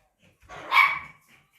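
A dog lets out a single close, fairly loud bark that rises and fades within about a second, alone with no talk.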